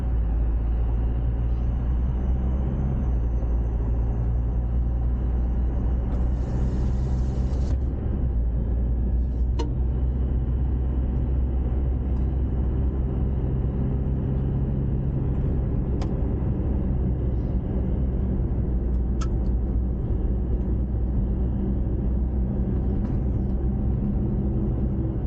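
A car on a dirt road through arid savanna, a steady low engine and tyre rumble droning continuously from inside the vehicle, with occasional faint knocks and rattles.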